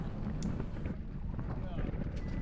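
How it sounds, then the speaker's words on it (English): Blustery wind buffets the microphone in strong gusts while a Windrider 17 sailboat moves through rough water on East Matagorda Bay, with voices faintly underneath. "the gusts were getting pretty crazy and knocking us around"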